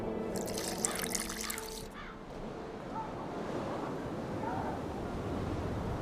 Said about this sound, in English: I need to add burnt lime to the flask, then quench it with water.